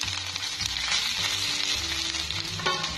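Fara rice dumplings sizzle steadily in a pan with mustard seeds, a dense continuous frying hiss with a few light stirring clatters, close and even throughout.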